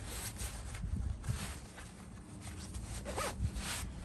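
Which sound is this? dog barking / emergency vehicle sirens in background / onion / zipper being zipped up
zipper being zipped up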